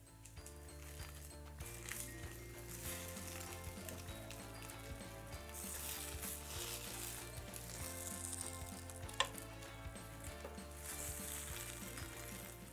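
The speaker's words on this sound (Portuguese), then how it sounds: "Fritou, agora a gente vira e vai fritando as laterais também" Rabanada, bread soaked in egg, sizzles in a frying pan, a soft continuous fry heard faintly beneath louder background music.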